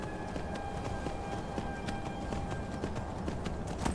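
Horse hooves clip-clopping at a quick pace in the video game Skyrim, a steady rhythmic patter over a constant low background hum, moderately close.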